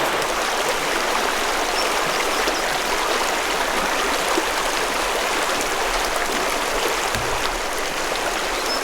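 Black River stream flowing near a wilderness camp at about 6,900 feet, a steady broadband rush of water close by that carries on without pause, with no one talking.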